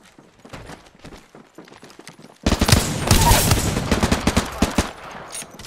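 Gunfire in Apex Legends begins after a quiet stretch of faint ticking, then turns into a loud, dense run of rapid shots that stays steady to the end.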